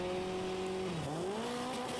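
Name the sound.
Alfa Romeo race cars accelerating away at the race start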